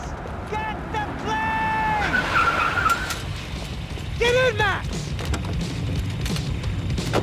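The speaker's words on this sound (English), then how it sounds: "I'm in, just drive the fucking car!" A car in the video game Max Payne 3 revs and skids, with tire squeals rising and falling over engine noise, while voices shout urgently over the action.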